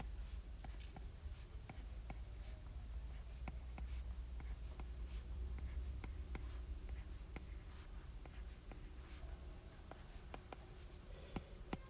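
Pen or marker scratching and tapping on a surface while a probability solution is written out, faint irregular strokes and taps close by over a quiet room hum.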